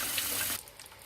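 Cold water running from a tap over cooked cabbage, a brief splashing rush that stops abruptly, leaving faint clinks.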